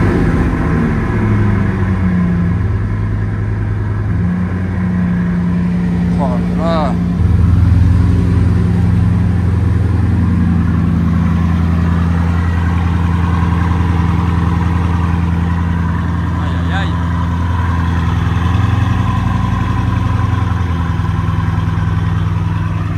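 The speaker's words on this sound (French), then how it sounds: "Je la démarre. Je vous fais profiter de tout ça, bien évidemment." Exclusive supercar engine cold-starting and settling into a loud, steady idle, with a brief crank and rev surge near the start and a deep constant rumble throughout, no talking.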